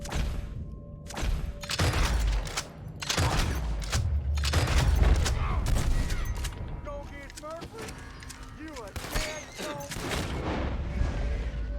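Gunfire in a video game, a series of sharp loud shots in irregular bursts over the first half, followed by mechanical clanks and creaks, with a voice talking beneath.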